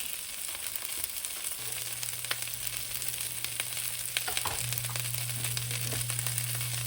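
Green beans, cabbage and bok choy stems frying in a pan over medium heat give a steady close sizzle and crackle throughout, with a few light stirring clinks and a low hum underneath.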